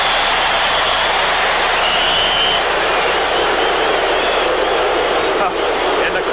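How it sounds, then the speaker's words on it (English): A football stadium crowd boos at a Pittsburgh Maulers vs Michigan Panthers game, a loud, steady, broad roar of disapproval that carries through the whole stretch with a broadcaster's voice faintly on top. "In the crowd, if you hear them booing in the background,"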